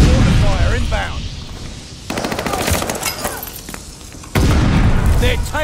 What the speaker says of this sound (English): Allied mortar fire inbound.